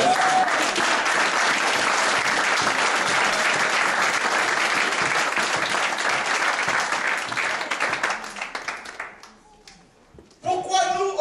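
A church congregation applauds loudly and steadily, with voices and cheers mixed into the clapping; it fades and breaks off near the end before a short burst of sound returns.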